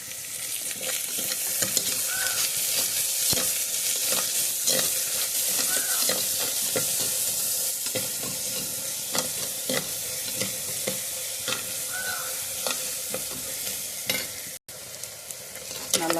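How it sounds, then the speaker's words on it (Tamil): Greens sautéing in a hot pan with a pinch of added salt, a steady bright sizzle with frequent stirring scrapes and clicks from a spatula, close and continuous with no talking. "நல்லா வதங்கட்டும்."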